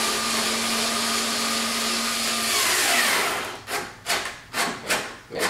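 A power driver fitted with a T30 bit tightens a bolt on an ACS Composite ZR1-style front splitter being installed on a C7 Corvette, a steady whirring run followed by several short, loud bursts as the fastener snugs down.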